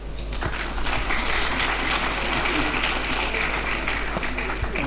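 An audience at an Ijaw economic summit claps in a sustained ripple of applause that swells after a short lead-in, with a voice faintly heard beneath.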